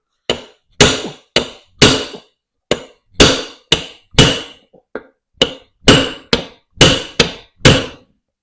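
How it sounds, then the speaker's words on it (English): Sharp metallic hammer blows strike a chisel while fitting a tire tube on a ride-on lawn tractor wheel, about fifteen of them in an uneven rhythm, close and loud with brief pauses between. "I just got a chisel, hammer."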